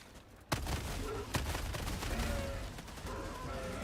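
Shotgun blasts in a bug-fighting shooter video game: one sharp report, then a second about a second later, over a busy, constant bed of in-game combat noise.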